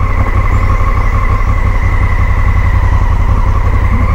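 A motorcycle engine idles steadily near a hanging bridge on rural backroads in Dapitan, a loud, close, even low rumble that holds constant without revving.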